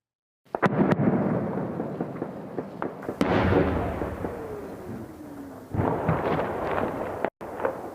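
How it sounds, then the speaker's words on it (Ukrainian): Several heavy, rumbling explosions of artillery and rocket shelling on residential areas of Bakhmut boom one after another, with a deep roar lingering between blasts and a sharp crack near the end. "житлові квартали Бахмута не припиняє бомбардувати ворожа ствольна і реактивна артилерія"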